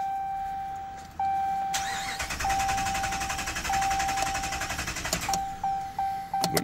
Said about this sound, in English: And we're gonna try to crank it up a couple times and hopefully it depressurizes.